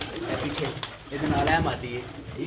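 Soft pigeon coos repeat under a man's nearby speech, low and murmuring against a busy outdoor background.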